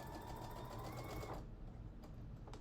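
A sewing machine runs steadily as it stitches the neckline of a child's dress made from a man's shirt, its whir stopping partway through and leaving faint clicks and handling noises, with no talking.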